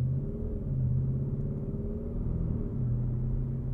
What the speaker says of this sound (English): in normal, the V8 continues to be subdued. It has a little bit of a snarl there